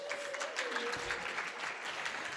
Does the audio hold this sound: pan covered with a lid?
no